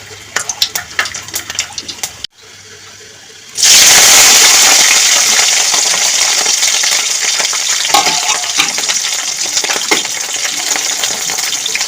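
Peanuts frying in hot oil: after a short quieter stretch with clinks, a loud, dense sizzle bursts in and holds steady at close range, crackling continuously to the end.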